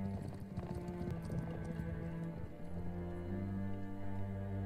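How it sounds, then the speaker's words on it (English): Horses galloping in the 2015 western film Bone Tomahawk, a rhythmic clip-clop of hooves under a sustained low musical score, fairly faint and mixed into the soundtrack. "Don't you love the whole gallop of the horse?"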